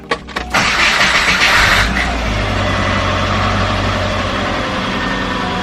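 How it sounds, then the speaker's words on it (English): A 1998 Subaru Forester engine cranks with a few quick bursts, then catches and roars to life before settling into a steady, fairly loud idle. "We're going to start it up and see if I still have the check engine light."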